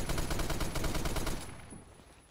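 M60 machine gun in the game Phantom Forces firing a sustained rapid burst of close, loud shots for about a second and a half, then stopping as the echo fades.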